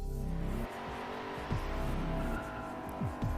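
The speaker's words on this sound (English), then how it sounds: "From a standstill, it leaves more tyre marks, but also accelerates way quicker than the Skyline." Holden Commodore V8 pulling away hard from a standstill, a steady engine drone with brief tyre squeals and rising revs at intervals, loud and close, no talking.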